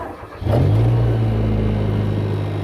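A speed sprayer's engine starts with a sharp catch and then settles into a steady, loud low rumble with a strong droning hum, running alone without talk.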